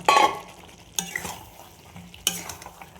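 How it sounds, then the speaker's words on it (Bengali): Chicken and fried potato pieces sautéed with chili powder, salt and garam masala in a pan, stirred in three close, scraping strokes over a light, steady sizzle. "নর্মাল যেমন হয় মাংস সেইভাবে এইভাবে কষিয়ে দেবো"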